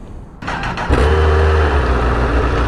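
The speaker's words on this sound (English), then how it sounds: "Let's get an exhaust clip, baby." A Honda CBR1000RR sport motorcycle starting up, with a brief cranking stutter that catches into a loud, close, steady exhaust idle.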